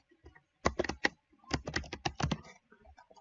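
Typing on a computer keyboard, two quick bursts of clustered key clicks separated by a short pause, close and clear, with a few lighter taps after.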